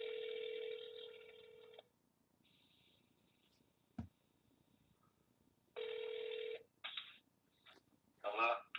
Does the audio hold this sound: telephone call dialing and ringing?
yes